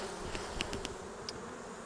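Bees buzz in a low, steady hum as they are shaken off a brood frame during a hive inspection, with a few brief sharp clicks over the drone.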